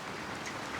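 Steady rain falls outdoors as a continuous, even hiss with no breaks, moderately quiet and without any voices.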